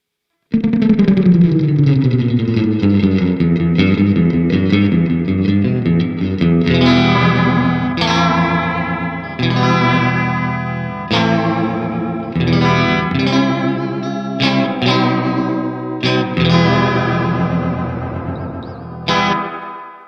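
A clean electric guitar plays twangy surf-style lines through a Laney amp, notes ringing out with a wash of reverb, with no voices.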